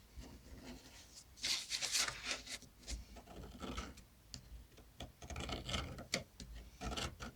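Scissors cut through paper scraps for a handmade card, giving close, soft rasping snips and rustles in uneven bursts, with no talking.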